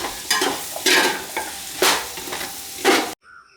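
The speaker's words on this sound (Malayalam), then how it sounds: "ഇതിലേക്ക് ഇഞ്ചി വെളുത്തുള്ളി പേസ്റ്റ് ചേർത്ത് കൊടുക്കുന്നുണ്ട്. അതുകൂടെ ചേർത്ത് നല്ലപോലെ മിക്സ് ചെയ്തെടുക്കാം." Beef frying with ginger garlic paste sizzles loudly while a spoon scrapes and stirs it in several strong, uneven strokes, then stops abruptly.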